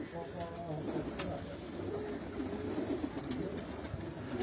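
Breeder pigeons on a rooftop coo in a steady, low murmur throughout, with faint chirps above and people talking nearby.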